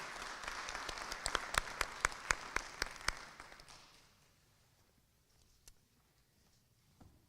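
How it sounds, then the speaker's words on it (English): Audience applause for spelling bee contestants at a district school competition, a burst of clapping with sharp individual claps that fades out after about four seconds, leaving quiet room tone. "Round of applause for our spellers"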